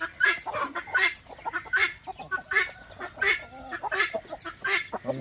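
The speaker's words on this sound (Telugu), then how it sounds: "జాతి పుంజులు మాత్రమే ఇట్లా అంటా ఉంటాయి మనం వెనక్ సైడ్ కదిలిస్తే." Several Thurpu breed country roosters cluck and squawk in repeated bursts when disturbed from behind on a village chicken farm, loud and close with no talking.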